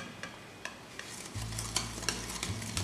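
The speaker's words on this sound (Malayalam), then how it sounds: "നന്നായിട്ട് മിക്സ് ചെയ്ത് കൊടുക്കാം" A spoon stirs chocolate powder into a whipped dalgona coffee mix: soft scraping clicks, then a steady low rumble of continuous mixing in the second half, close and fairly quiet.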